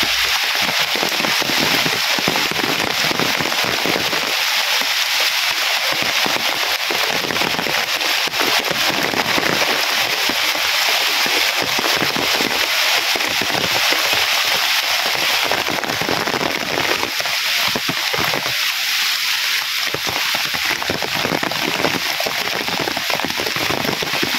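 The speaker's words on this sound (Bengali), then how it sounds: "বৃষ্টি আস্তে আস্তে কমতেছে" Heavy rain pours down continuously on a surface near a house during a rural downpour, a dense, loud, crackling hiss that never lets up, with no talking.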